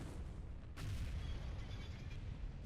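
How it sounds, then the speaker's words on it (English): A deep rumbling explosion from a bombing run in the Star Wars strategy game Thrawn's Revenge, with a sharper blast hitting about a second in, over a dense, low, continuous roar. "Commencing bombing run."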